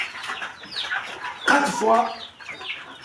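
Rhode Island Red rooster clucking and calling in short bursts, fairly close, with a few spoken words in the clip.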